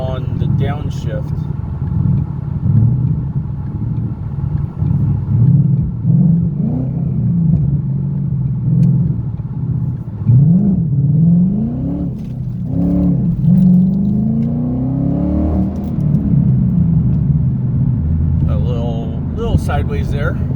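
A 2014 Ford Mustang GT with a full replacement exhaust drives close by, its engine rumbling low and revving up in repeated pulls, with someone talking over it throughout.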